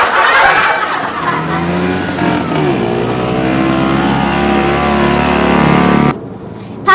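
Pak Bajuri's car runs with a steady, loud engine drone that holds throughout, rising slightly and humming continuously before cutting off abruptly near the end.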